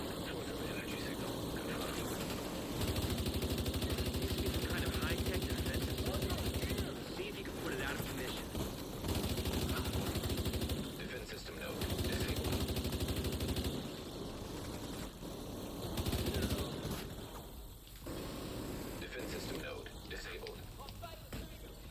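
Dense automatic and rapid gunfire from a Division 2 Dark Hours raid roars continuously in long bursts, loud and layered with game effects, with brief lulls between volleys.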